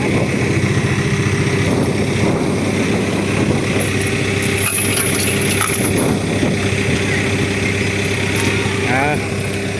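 A 6H-A1 engine running: a loud, steady mechanical drone throughout, with people talking over it.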